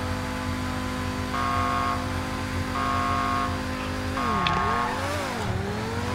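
A Bugatti and a McLaren P1 launch side by side in a GTA Online drag race at an airport: steady loud engine drone with shifting revs and pitch dips as gears change, no voices.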